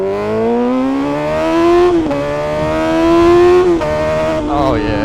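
A Yamaha R6 motorcycle revs up through several rising gear pulls on a test ride, its engine whine climbing in pitch, dropping at each shift, loud and close with wind noise.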